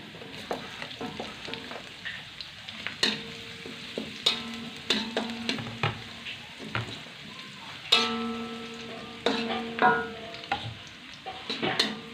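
Garlic frying in a pan while a spatula stirs it, with irregular sharp scrapes and clinks over a soft continuous sizzle, close up and without talk.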